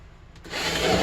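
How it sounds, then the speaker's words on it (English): A drill boring a hole into a plywood corner inside an RV travel trailer, starting abruptly with a brief rasping bite into the wood, close and loud. "I'm going to actually just drill some holes up in all of the corners"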